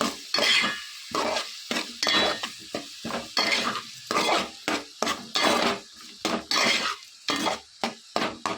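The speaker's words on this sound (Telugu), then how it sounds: "వీటన్నిటిని కొంచెం సేపు ఫ్రై చేసుకోవాలి" Cumin seeds and turmeric fry in a pan for a beans curry. A spatula scrapes and clinks against the pan in quick, repeated stirring bursts over a light sizzle, fairly close, with no talking.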